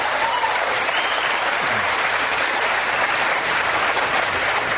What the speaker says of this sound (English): The mention of the execution of 234 people drew applause.